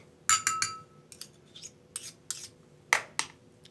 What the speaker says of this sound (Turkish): bütün malzemelerimizi bir güzel karıştırıyoruz